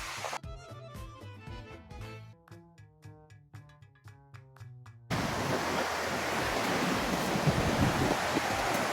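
Sea waves breaking on a shore at night, a loud continuous wash of surf that sets in abruptly after about five seconds of tuneful music, steady and close with no voices.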